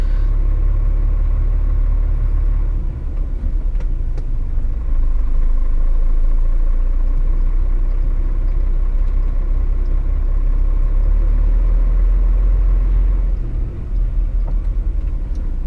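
A steady, loud low rumble of heavy truck engines fills narrow back streets as a convoy of 18 trucks moves through, with the drone shifting slightly but never stopping.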